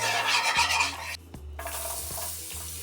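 Spice powders, including pepper powder, frying in a pan are stirred with a scraping utensil, a close gritty rasp over a soft sizzle, with a brief pause midway and a low background hum.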